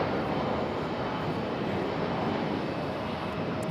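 An American Airlines Airbus A319 taxis at Raleigh-Durham airport with a dense, continuous engine rumble and hiss. The sound is steady and moderately distant, with no voices.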